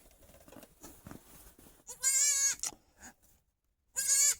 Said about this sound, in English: Steffi, you got your baby goats here.